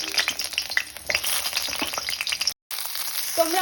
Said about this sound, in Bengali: প্রথমেই আমি কড়াইতে কিছুটা সর্ষের তেল গরম করে বেগুনগুলো একটু ভেজে তুলে নেব।